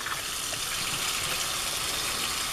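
Water runs steadily from a kitchen sink tap while dishes are washed with homemade liquid dish soap and vinegar, a continuous close splashing hiss with no voices.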